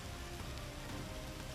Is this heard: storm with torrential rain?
yes